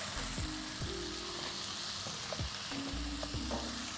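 Squid masala frying in a pan with turmeric, chili powder and salt, a steady close sizzle broken by repeated scraping strokes of a spoon stirring the mixture, no voices.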